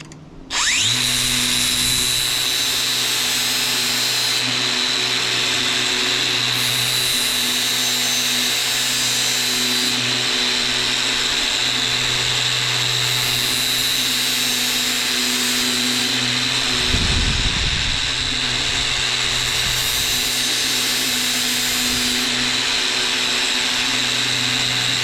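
A GSTP 5005 sharpener grinds a lawn mower blade with a loud, continuous high-pitched motor whine and grinding buzz that shifts slightly in pitch as the blade is worked, sustained throughout.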